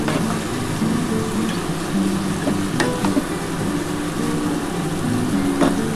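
Bottle gourd greens cook in a pan with mustard paste, water and spices, giving a steady, close sizzle broken by occasional clinks of the stirring spoon.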